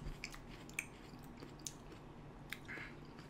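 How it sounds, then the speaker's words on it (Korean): Raw onion being bitten and chewed during a meal, a few sparse crisp crunches spread over a few seconds, quiet and close. "와 근데 양파가 아삭아삭한데?"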